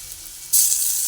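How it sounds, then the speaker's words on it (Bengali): Ginger dropped into hot oil, a sudden loud sizzle bursting in halfway through and then holding steady and close. "আদাটা একটু তেলের মধ্যে দিয়ে দিচ্ছি আর ভেজে নিচ্ছি"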